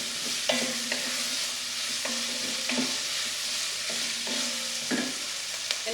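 Carrots cooking in a pan give a continuous sizzle, broken by a regular series of scraping stirs from a utensil about every second, with no talking.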